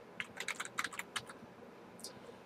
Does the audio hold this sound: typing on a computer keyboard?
yes